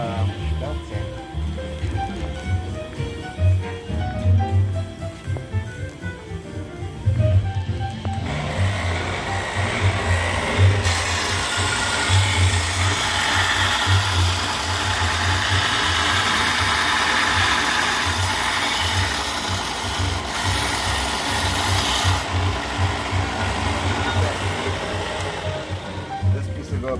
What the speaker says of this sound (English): Okay, off to the belt sander.